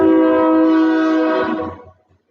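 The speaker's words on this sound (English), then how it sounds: "it will get a little loud because the train is passing by" A train passes close by, its loud horn holding a steady chord for over a second before fading out, with a low rumble of the rail cars underneath.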